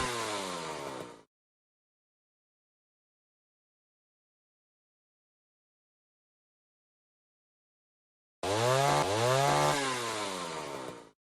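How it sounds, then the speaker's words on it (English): Spinning saw blades in a video game whir in two separate bursts: a short one at the start and a longer one near the end, with silence between and rising and falling mechanical tones. "Enabling the back saw blades."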